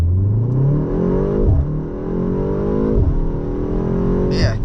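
A 2025 BMW M235 Gran Coupe launches from a standing start at full throttle on a wet road, its engine revving hard through rising gear pulls with brief dips at each upshift, heard loud from inside the cabin.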